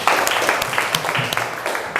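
Classroom applause from students, a short dense burst of clapping that fills the whole moment, close and fairly loud.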